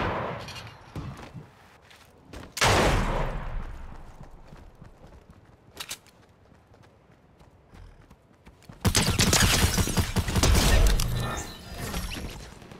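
A golden assault rifle in Fortnite fires in loud bursts, one near the start, a single crack midway and a long heavy volley toward the end, with quieter shuffling between.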